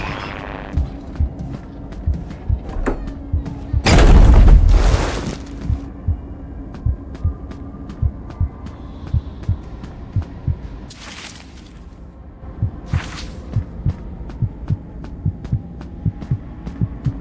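A heartbeat in Five Nights at Freddy's: Into the Pit thumps steadily and low in a regular double-beat rhythm throughout. Loud whooshing bursts break in twice, one heavy impact near the start and a softer one later.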